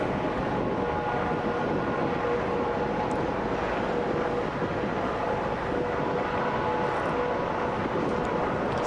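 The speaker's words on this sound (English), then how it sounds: "that police helicopter now comes overhead" A police helicopter flies overhead at a Glamorgan versus Warwickshire cricket match, its steady, heavy rotor and engine drone filling the air at a constant loud level throughout.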